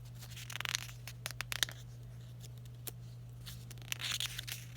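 Paper rustles and crinkles in scattered bursts, like pages being turned and pulled apart, over a steady low hum.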